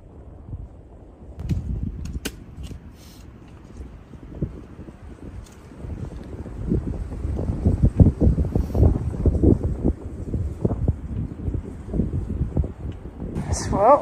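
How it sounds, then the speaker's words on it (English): Wind gusts steadily along a mountain trail on the Appalachian Trail in Georgia, a broad low rushing that swells and buffets the microphone, with brief voices in the mix. "If the wind would lay down, it'd be perfect."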